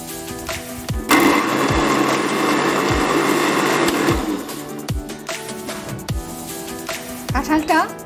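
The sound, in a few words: mixer grinder blending ripe jackfruit into juice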